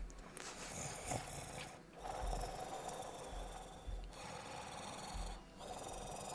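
Low, heavy breathing of a predator lurking in a den, a tabletop game sound effect, slow rasping inhales and exhales rising and falling in a steady rhythm, faint and menacing.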